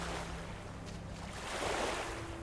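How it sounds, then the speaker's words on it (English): Water and waves in Guild Wars 2, a loud continuous wash of surf with a windy rush, alone and without any break. "Oh, it's so loud. The water's so loud."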